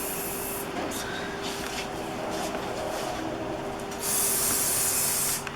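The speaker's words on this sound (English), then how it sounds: "those mosaic tiles, you're just going to have to kind of spray it, huh?" Mosaic tiles are sprayed during a bathroom renovation, heard as close, hissing spray bursts. A short burst comes near the start, and a longer, louder one follows near the end over a quiet background.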